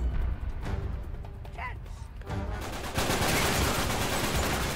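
Rapid gunfire in an Uncharted 3 multiplayer match, a dense, loud, continuous burst of shots that takes over after quieter game sounds and a voice.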